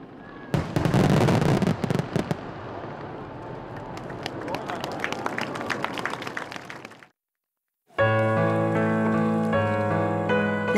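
Summer fireworks display over a river in Gifu, Japan: a burst of crackling, popping explosions for several seconds, then a short silence before music begins.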